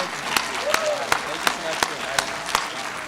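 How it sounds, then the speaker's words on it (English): Brief applause with rhythmic clapping from a small group, sharp regular claps rising over a steady background murmur. "A round of applause, huh?"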